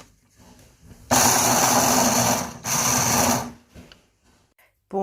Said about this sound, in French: Pour mixer mon arachide blanc, j'utilise un Krups Perfect Mixed 9000 de 750 watts.